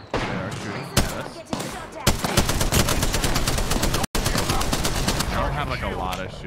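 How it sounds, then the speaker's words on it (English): Apex Legends video game gunfire: loud, rapid automatic bursts with a few separate single shots first, then a long continuous stream of shots broken by one brief gap, with voices faintly mixed in. "They are shooting at us."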